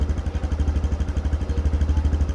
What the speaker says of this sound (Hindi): अब 100 सीसी का इंजन है, काफ़ी रिफाइन इंजन है, काफ़ी स्मूथ है।